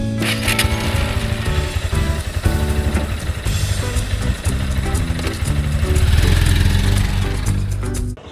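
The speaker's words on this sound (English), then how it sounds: "I will start from climbing the bike and then putting it in first gear and going forward." Motorcycle engine pulling away in first gear, a steady close-up drone with harmonic tones that rises slightly in loudness toward the end, no speech over it.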